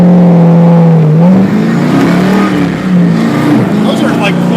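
A Factory Five GTM mid-engine street car's engine drones loudly at quarter throttle, the revs rising and falling gently while driving, with wind and road noise and a person talking over it.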